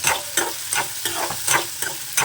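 Chicken liver frying in oil in a pan, loud close sizzling broken by rhythmic stirring scrapes about every half second, no voices.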